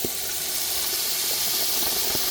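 Masala frying in sesame oil over a moderate flame for a quail chilli roast, a steady soft sizzle and hiss with a few faint pops, no talking.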